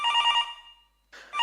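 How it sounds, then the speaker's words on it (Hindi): A telephone rings in short bright electronic bursts during a stage performance at a cultural program, a loud ring, a brief pause, then ringing again. "ये परफॉर्मेंस के बीच में किसका फोन आ गया?"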